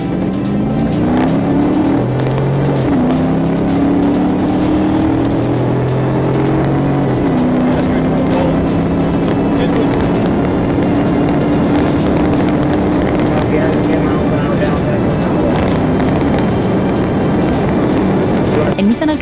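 A Nissan speeding at 110 mph through a 45 mph zone during a police chase, its engine roaring loud and close with rising and shifting revs and a constant rushing drone throughout.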